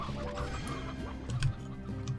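Chickens cluck in the Slime Rancher video game, several short clucks over steady game music and ambient tones, with a louder burst near the middle and another toward the end.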